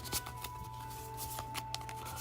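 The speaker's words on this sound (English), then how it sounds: "And now, the shuffle on the names." Trading cards being shuffled by hand at a live card shop, a soft riffling flutter with light clicks, steady and close, no talk.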